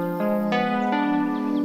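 A synthesized square-wave tone plays a diminished diamond pattern of stacked notes in a sound healing session, stepping up in three bright, buzzy stages with a new pitch entering about every half second, steady and loud with no talking.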